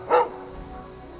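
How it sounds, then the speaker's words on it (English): Dog in the Skyrim video game letting out a single short, sharp bark that fades into quiet background ambience. "I was talking about the dog"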